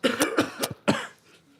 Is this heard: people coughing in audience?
yes